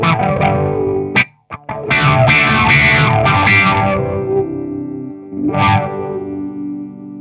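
Distorted electric guitar chords played through a Boss AW-3 Dynamic Wah pedal into an amp, loud strummed chords with a brief gap, then sustained ringing chords and a final swelling strum.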